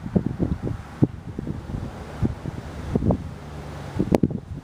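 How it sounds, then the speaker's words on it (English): Gusty wind rushes past the microphone outdoors, with bursts of low rumbling buffeting through the whole stretch and a brief sharp tick near the end; nobody speaks. "Got a little bit of wind out here today again."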